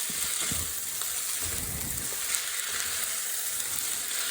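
Mee goreng mamak ingredients frying in hot oil while being stirred, a steady broadband sizzle with soft scraping of the utensil through the pan, close and continuous with no talk.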